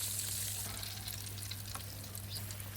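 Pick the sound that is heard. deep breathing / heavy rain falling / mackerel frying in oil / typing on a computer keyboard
mackerel frying in oil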